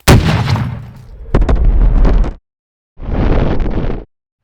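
Det cord detonates down the barrel of a .50 cal rifle with a sharp, loud crack, followed by a second burst and a rumbling roll. A separate booming echo comes about a second later, then silence.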